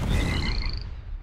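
Dense chorus of frogs croaking in the ShellShock Live video game, close and loud, with rapid repeating croaks in layered pulses, ending with a brief burst of noise.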